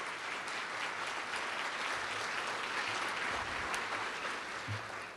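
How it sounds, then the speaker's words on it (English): An audience at a county government address applauds city elected officials, steady dense clapping throughout at moderate distance with no talk over it. "Let's give all of our city elected officials a round of applause."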